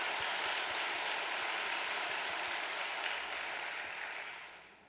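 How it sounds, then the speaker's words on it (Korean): A church audience gives the district leader a big round of applause, a broad, steady roar of many hands clapping that holds at an even level, then gradually fades toward the end. "교구장님께 큰 박수 한번 보내드리면 좋겠습니다"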